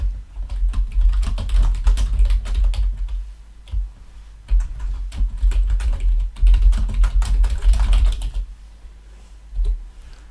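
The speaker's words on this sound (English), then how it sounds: "So let's just type some text in here." Rapid typing on a computer keyboard while entering text, a dense clatter of close key presses in bursts with brief pauses, no talking.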